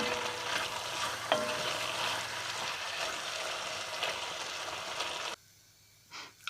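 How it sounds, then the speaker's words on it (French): Cucumber curry sauce simmers in a pan with a steady, soft sizzle and bubble that cuts out near the end, leaving near silence and a faint rustle. "Et on va laisser cuire. Allez, on va laisser cuire ça pour l'instant un bon quart d'heure."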